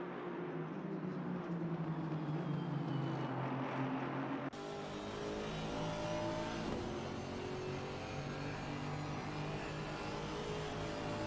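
Aston Martin GT4 race cars battle at Zolder circuit, engines roaring loudly and continuously as they run close together over the curbs, with a sharp shift in engine note midway.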